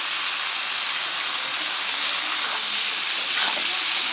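Vegetables hitting a hot pan of shrimp, onion and turmeric set up a steady, loud sizzle and hiss that fills the whole clip, continuous and close with no break.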